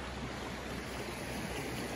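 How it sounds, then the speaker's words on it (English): The Wind River running down from the mountains beside a motorhome campsite near Yellowstone, a steady broadband rush of flowing water that holds even and continuous throughout with no voices. "The Wind River comes down out of the mountains."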